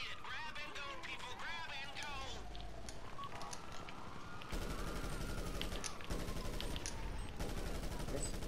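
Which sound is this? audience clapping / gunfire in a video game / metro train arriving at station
gunfire in a video game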